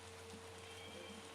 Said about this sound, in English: That rain is stopping me from talking, because I can't hear myself talk in the actual photo.